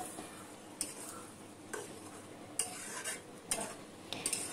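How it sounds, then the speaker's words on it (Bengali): Fish being stirred and fried in a pan, with quiet sizzling under repeated sharp scraping and clinking of a utensil against the pan at irregular intervals, close by and with no talking. "এটাকে এবার আমি খুব সুন্দর করে নাড়তে নাড়তে ভাজা ভাজা করে ফেলবো।"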